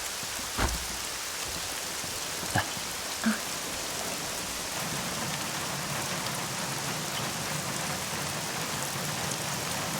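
Steady rain falls in an even, constant hiss, with a few soft thuds early on and a brief voice speaking.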